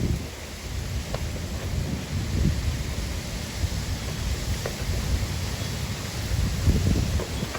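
Strong wind gusts whip around a house and shed in a Texas rainstorm, a steady loud roar of rushing air and rain with no talking.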